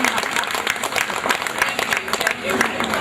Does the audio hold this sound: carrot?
no